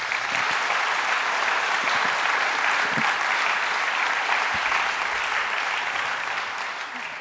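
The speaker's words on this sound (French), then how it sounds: "et on peut l'applaudir" Dense, sustained audience applause at a French health conference, loud and steady throughout before tapering slightly at the end.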